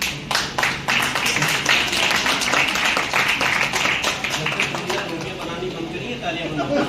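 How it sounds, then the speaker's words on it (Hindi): An audience claps at a Rotary Club Teachers' Day honour ceremony in Muzaffarnagar, a steady run of applause that tapers off toward the end, with a voice talking over it. "एक बार ताली और बजाओ।"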